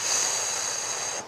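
A long, steady breath hisses close to the mic during an aerobics session for seniors. It is one sustained airy exhale that fades out near the end.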